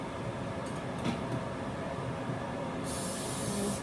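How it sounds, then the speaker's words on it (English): A steady broadband hiss of spraying runs throughout, with a brighter, sharper burst of spray near the end; no voices. "Spray some now though."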